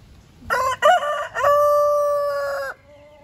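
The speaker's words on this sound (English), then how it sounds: "It's time for a crow off." Roosters in a crowing contest, with one loud, close cock-a-doodle-doo that opens in choppy bursts and ends in a long sustained note, followed by quiet.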